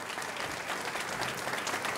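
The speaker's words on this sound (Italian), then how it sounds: "E un applauso è davvero" Steady, dense audience applause from an indoor crowd at an interview event honoring Nicola Gratteri, many hands clapping continuously at an even volume throughout.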